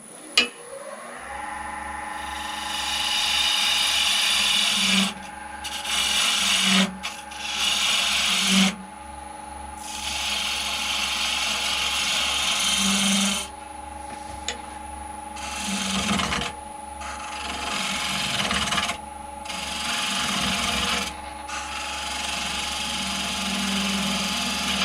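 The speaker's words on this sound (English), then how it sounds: "So I will now flip to the skew, and that way I can take down these edges as well." A skew chisel shears the edges of a wooden tube spinning on a lathe, giving a steady raspy cutting hiss over the lathe's motor hum, broken by short pauses as the tool lifts and re-engages, close and fairly loud.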